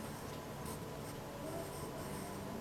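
A marker or pen scratches and squeaks out a sum on a board for a few seconds, a continuous close rubbing sound with no talk.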